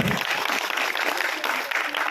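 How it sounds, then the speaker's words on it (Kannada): Loud, dense applause from a crowd at a rural agricultural work experience programme event, steady and continuous throughout with no pauses. "ಸಮರ್ಥ ತಂಡಕ್ಕೆ ಬರಲಿ ಜೋರದ ಚಪ್ಪಾಳೆ"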